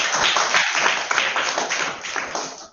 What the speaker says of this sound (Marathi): सगळ्यांनी टाळ्या वाजवा धनश्रीसाठी